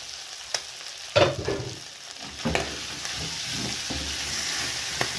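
Capsicum gets stirred into goat tripe frying in a pan: a steady background sizzle with several close spoon scrapes and knocks, the loudest early on, and no one speaking.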